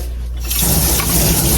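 Water rushes from a tap into a bowl of okonomiyaki batter, starting abruptly after a quiet moment and running as a loud, close, steady gush.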